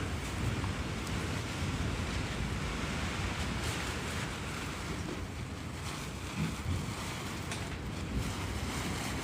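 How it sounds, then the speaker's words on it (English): Gusty outdoor wind rushes steadily across the microphone, a continuous dense roar with slight swells and no talking. "Do you hear that wind?"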